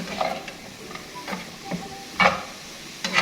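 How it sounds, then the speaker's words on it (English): Vegetables being stir-fried in a pan for a Swahili biryani, with soft sizzling and intermittent scraping and tossing strokes from a utensil, close and fairly quiet. "Just stir fry. Do not overcook them because they are vegetables."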